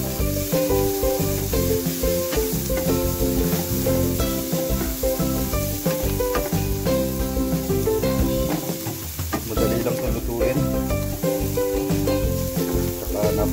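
Onions and pork innards sizzle and spit steadily in a hot pan, a dense continuous frying hiss with faint stirring scrapes mixed in.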